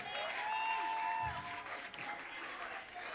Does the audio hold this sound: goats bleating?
no